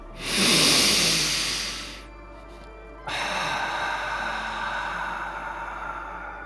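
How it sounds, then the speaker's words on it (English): A deep inhalation drawn in through the nose during a guided morning breathing session, loud and airy for about two seconds, followed after a short pause by a softer, steady breathy exhale. "Nice deep breath in through the nose."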